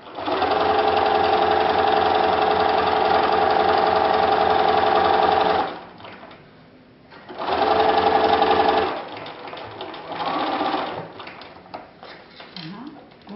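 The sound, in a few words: sewing machine stitching an invisible zip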